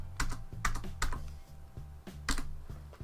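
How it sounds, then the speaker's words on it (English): Quiet, irregular clicks and taps of keys on a computer keyboard, close by, with small bursts and pauses. "use the backspace found on your keyboard to take out the letters"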